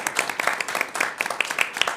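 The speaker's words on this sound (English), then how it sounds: "Give them a round of applause, everybody." Scattered clapping at a city mayor and council meeting, individual sharp hand claps standing out in a thin, uneven round of applause from a modest room audience.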